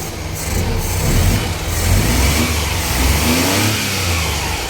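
Suzuki F6a 4x4 engine, long unused, starts and runs steadily close by, its small-engine note rising and falling through the whole stretch with no talk.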